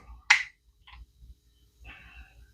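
A sharp metallic click from the hammer of an Investarms .50 caliber Hawken muzzleloading rifle, followed by a couple of softer clicks and light mechanical handling, close and otherwise quiet.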